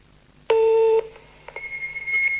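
Electronic answering-machine tones: a loud two-tone beep lasting about half a second, then a few short blips and a thinner, steady high tone before a recorded phone message begins.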